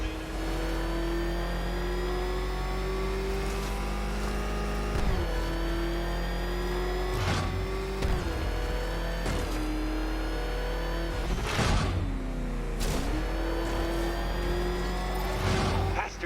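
Batmobile engine in Batman: Arkham Knight, a loud sustained roar with repeated revving surges and brief dips as gears shift, continuous and close throughout.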